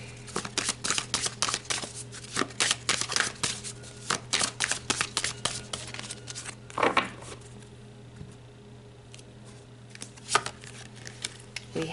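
Tarot cards being shuffled during a card reading, a fast run of crisp riffling flicks and slaps for several seconds, then a brief flurry and a few quieter card snaps near the close, over a steady low hum.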